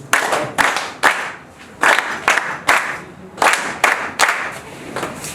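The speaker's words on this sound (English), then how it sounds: "let's just give them one round of applause" An audience at a youth association event claps in short synchronized bursts, around a dozen sharp rounds of applause in a loose rhythm, loud and close.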